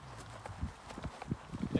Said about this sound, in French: Et qui fait quoi là le cheval? Eh ben, il avance